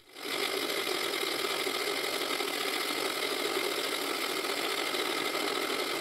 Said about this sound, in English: The lathe drive belts are getting old and they may be slipping more than they should.